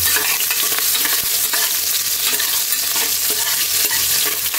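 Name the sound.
onion being stirred in a cooking pot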